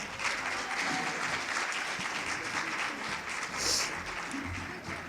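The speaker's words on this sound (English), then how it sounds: "Let's give him a round of applause." Applause from an audience at an auditorium dedication ceremony, a steady sustained wash of many hands clapping throughout, with faint cheering or murmurs mixed in.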